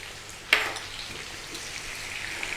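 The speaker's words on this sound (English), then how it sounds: "What we need to do now is go in with some chopped shallots." Chopped shallots hitting hot oil in a pan used for salmon, a sudden sharp sizzle that settles into a soft, steady frying hiss, close and alone.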